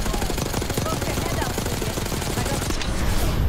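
Sustained rapid gunfire in the Call of Duty Black Ops 6 campaign, a loud continuous stream of shots mixed with battle noise, without pause through the whole moment.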